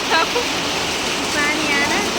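Steady rain falls as a dense, even wash of noise, with a brief voice faintly heard beneath it.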